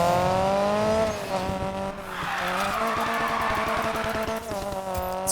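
A Ford Focus RS in the Need for Speed Payback video game roars at high revs with rising and falling engine tones, while tires squeal through a drift.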